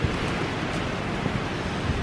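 Strong outdoor wind gives a steady, dense rushing roar with no breaks and no voices.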